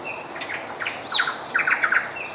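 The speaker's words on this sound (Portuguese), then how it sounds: "E esses passarinhos que estão cantando" Small birds sing in a sequence of sharp chirps and whistled trills in an outdoor setting in Santa Elvira, Mato Grosso, close and fairly clear over quiet background noise.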